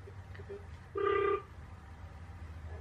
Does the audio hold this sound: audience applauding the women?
no